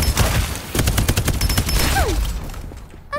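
Rapid gunfire in the video game Farlight 84, a fusillade of sharp repeated shots in quick bursts, loud and close, with brief whooshing effects near the end.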